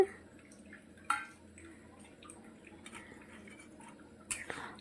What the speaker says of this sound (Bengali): এখন আমি বড়াটা মিলিয়ে দেব এটার মধ্যে